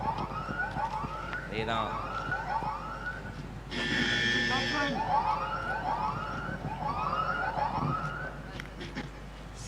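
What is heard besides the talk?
siren signalling a no ball in a cricket match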